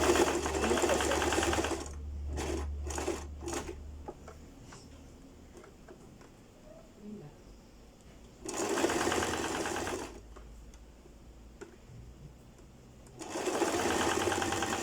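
Sewing machine stitching piping edge to edge onto fabric for a princess-seam bodice, a loud steady whirring run at the start, a pause with small clicks, then two more sustained runs, with no talk.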